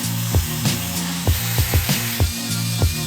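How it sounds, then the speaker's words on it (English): Rough, rhythmic scraping strokes of sanding metal parts for a winch mount on a 1989 Yamaha Moto 4, repeating at a steady working pace, close by and fairly loud with no talking. "So I'm sanding down all these parts"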